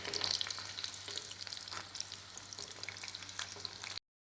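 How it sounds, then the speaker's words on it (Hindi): Chicken pakoda pieces deep-frying in oil in an iron kadai give a steady, dense sizzle and bubbling hiss that holds loud and even, then cuts off abruptly near the end. "इसको आप पलट पलट के फ्राई कीजिए"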